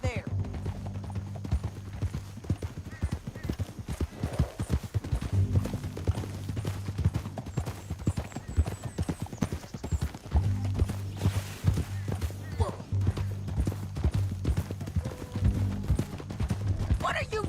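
Rapid clip-clop of horse hooves at a gallop in the Western video game Red Dead Redemption 2, steady and close, with gunfire bursts and character dialogue over the galloping.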